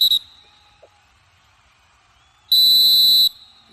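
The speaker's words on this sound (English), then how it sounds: "I think that's the final whistle of the match" A referee's whistle ends a kabaddi match with a short initial toot followed by a long, piercing sustained blast, loud and alone, with quiet arena ambience in between.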